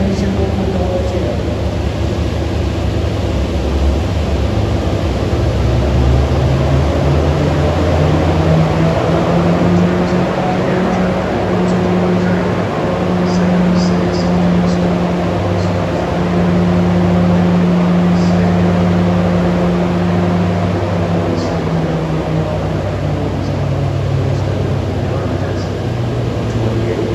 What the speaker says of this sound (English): You can hear the engine going through its gyrations in the transition.